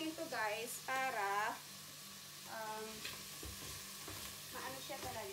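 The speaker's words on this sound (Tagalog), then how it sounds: "Kasi kailangan igisa yung gizzard at saka yung liver bago ilagyan ng grenadine sauce." Chicken gizzard and liver are stirred and sautéed in oil inside a rice cooker, giving a soft, steady sizzle with scraping stirs while a person talks over it in bursts.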